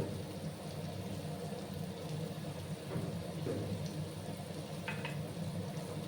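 Chopped onions frying in a pan with oil while cooking bitter gourd: a steady, even sizzle and crackle throughout, with faint scrapes of stirring and no talk.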